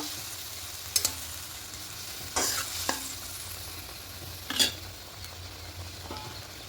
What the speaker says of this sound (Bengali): ভেজে রাখা মাছগুলো দিয়ে দেবো এপিট ওপিট করে নেব